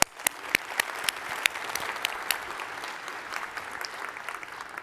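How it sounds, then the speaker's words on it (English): An audience at an awards event applauds the winners with steady, dense applause, a few sharp individual claps standing out near the start before it settles into an even wash. "another round of applause for all of the winners"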